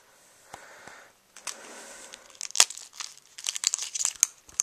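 A Mighty Wallet made of Tyvek, shaped like an envelope, crinkles and rustles as it is handled up close, starting soft and sparse, then building into a busier stretch of sharp, papery crackles toward the end.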